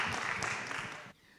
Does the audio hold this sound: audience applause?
yes